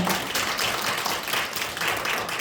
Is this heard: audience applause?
yes